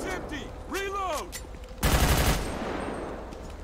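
Gunfire in the GTA V police mod LSPDFR erupts as a loud, dense volley of shots lasting about half a second, trailing into noisy rumble after a voice speaks earlier.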